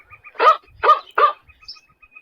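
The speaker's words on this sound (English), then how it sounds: "I choose just a sound of dog" A dog sound effect plays from a code.org program, three short barks in a quick, evenly spaced row, clear and close, over a faint electronic tone.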